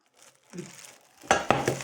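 A Krauff saucepan clatters and knocks against metal, a soft shuffle then two sharp clanks close by, with no talking.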